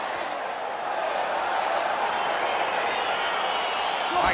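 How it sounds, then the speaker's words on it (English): Video game crowd noise from EA Sports UFC 4 as a fight gets underway, a steady broad roar of an arena audience that swells slightly near the end, with no clear voices on top. "crowd getting excited as this fight gets underway"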